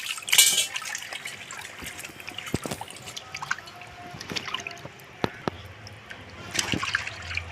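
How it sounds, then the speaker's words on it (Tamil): Water poured and trickling over fish being washed by hand, with splashy bursts, drips and clattering handling noises at close range; a faint voice occasionally. "இது வந்து கடைசி தண்ணி ஊற்றுறாங்க"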